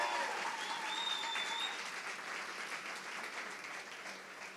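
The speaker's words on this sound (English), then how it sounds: "So please give them a loud round of applause. Give them a cheer." Sustained crowd applause at a Connecticut State Capitol commencement in 2025, steady and fairly loud across the whole stretch, with some cheering and whistles mixed into the dense clapping.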